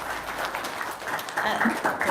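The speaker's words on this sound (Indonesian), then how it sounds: "Tepuk tangan dong." An audience claps after a call for applause at an Indonesian talk, brief scattered clapping mixed with nearby voices.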